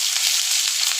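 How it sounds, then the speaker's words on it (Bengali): Chopped tomato hits sizzling moong dal in a hot pan, a loud, steady hiss of frying that fills the moment without any voice over it. "এবার দিয়ে দেবো আমি টমেটো কুচি,"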